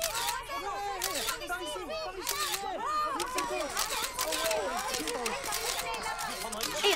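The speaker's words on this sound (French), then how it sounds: "En plein shooting photo." Cartoon camera shutters click rapidly and repeatedly during a photo shoot, mixed with lively overlapping chatter.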